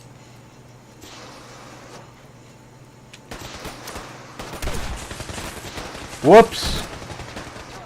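Gunfire in the video game Fallout comes in bursts of rapid shots that grow denser and louder toward the end, with a voice briefly exclaiming over the firing.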